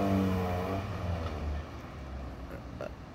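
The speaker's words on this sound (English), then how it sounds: "There goes Miata." A Mazda Miata with a stiff, loud exhaust pulls away, its engine note strong at first and then fading as the car drives off into the distance, with no voices over it.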